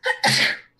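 A single sharp sneeze, a quick intake followed by a burst, short and close with nothing else around it.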